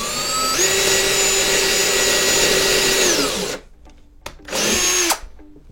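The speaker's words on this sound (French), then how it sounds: "je vais percer pour effectuer justement un pré-perçage avec justement un fraisage pour pouvoir insérer ma vis" A power drill with a countersink bit pre-drills a decking board for a screw: a loud, steady motor whine for about three seconds, then it cuts out, followed by a shorter second burst.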